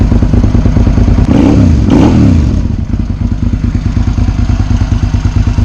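A motorcycle engine runs smoothly at a steady idle, loud and close, with an even throbbing pulse and a brief swell of revs partway through.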